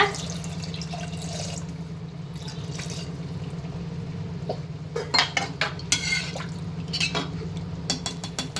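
Water is poured into a pot for Dindigul biryani from a Cookd kit, a soft trickle and splash that are followed by clinks and scrapes of metal utensils against the pot, with no voices.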